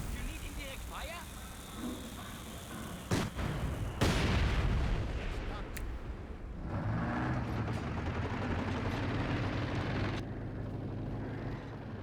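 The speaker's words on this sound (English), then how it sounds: "Those mortars, man, they're going to work" Mortar fire from a Company of Heroes 2 battle lands as deep booms and sharp thuds over a dense rumbling backdrop, with a heavy blast around the middle and several more impacts.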